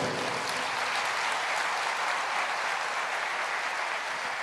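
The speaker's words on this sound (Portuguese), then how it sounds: "Pode aplaudir ao Senhor." A church congregation at a sermon claps steadily and densely for several seconds, a continuous wash of hands applauding together at moderate volume with no voices over it.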